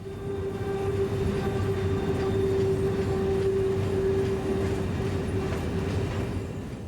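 Norfolk Southern freight train of hopper cars, rebuilt from older cars, rolling past steadily with a continuous loud rumble and a sustained tonal whine throughout, no voices.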